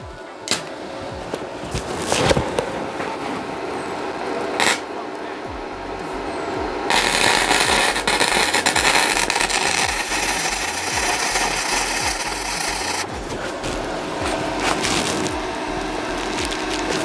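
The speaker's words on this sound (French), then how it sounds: "on va commencer nos soudures" MIG welding with a Mecafer Mikro MIG inverter welder, a crackling buzz that starts and stops in several bursts, the longest running for several seconds, with a voice talking at times.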